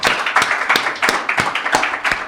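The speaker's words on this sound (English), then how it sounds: "I think a round of applause." Studio audience applauding on a breakfast broadcast show, dense steady clapping with a regular pulse of sharper claps standing out, fairly loud and close with no talking over it.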